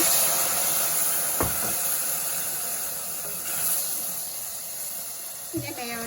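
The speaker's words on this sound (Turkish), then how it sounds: "Şimdi çok az su ekleyeceğim." A small splash of water hits hot tomato paste and oil in a pan for tomato soup, setting off a loud, continuous steamy sizzle and hiss with a couple of sharper bursts as it spits.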